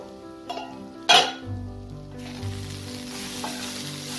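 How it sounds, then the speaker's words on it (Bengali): Potato and pointed gourd peels sizzling in a pan on a slow flame, a soft steady hiss after a clink and a louder clatter of utensils near the start. "এবার এটাকে একদম স্লো ফ্লেমে আমি একটু ভাজা ভাজা করে নেব।"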